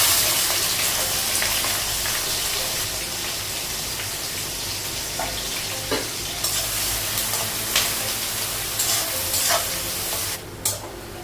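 Oil sizzles and crackles steadily in a pan as onions and bay leaves fry, while a utensil stirs and scrapes now and then. Nobody speaks.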